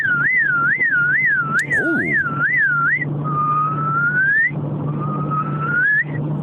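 A person whistles an imitation of a car alarm, a rapid warbling trill followed by two long rising sweeps, loud and close with no talking.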